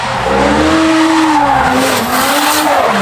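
A Toyota JZX90 drifts past on a Japanese track at an Ebisu event, with loud screeching tires and a revving engine, close and continuous throughout.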